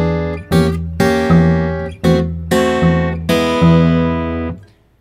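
Acoustic-style Delta blues shuffle riff on guitar with a steady monotonic bass thumping under bright plucked treble notes, several loud strummed bursts in a swinging rhythm, the last chord ringing out and fading.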